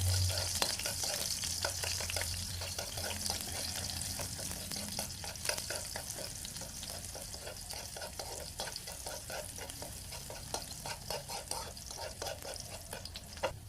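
Aromatics for adobong saging sizzle steadily in a hot pan while a utensil stirs and scrapes in quick repeated strokes, a constant close frying hiss throughout.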